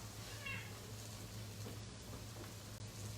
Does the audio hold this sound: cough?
no